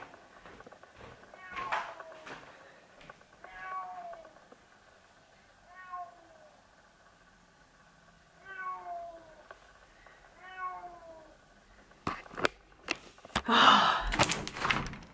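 A tomcat meows repeatedly in drawn-out, complaining calls spaced a few seconds apart, in a garden, followed by some knocking and thumping near the end.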